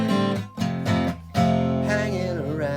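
Acoustic guitar strumming chords from a song, with a singing voice carried over the rhythmic chords, played close and fairly loud with brief pauses between phrases.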